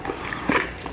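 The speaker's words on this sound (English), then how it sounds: "If you hear some barking in the background, that's just my neighbor's dog." A neighbor's dog barks once in the background, a short muffled bark partway through an otherwise quiet room.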